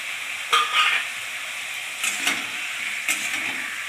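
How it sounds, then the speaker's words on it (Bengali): Spices fry in a pan for a Bengali fish and potato curry, a low steady sizzle broken by three bursts of spoon-against-pan stirring scrapes, close and alone without voices. "মশলাটা একটু ভেজে নেব।"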